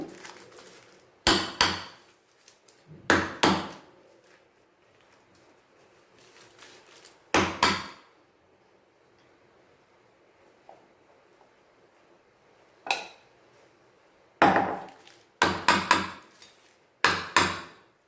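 A cake tin holding eggless plum cake batter is tapped against a hard surface in several short bursts of sharp wooden knocks, each a cluster of two or three raps, separated by quiet pauses.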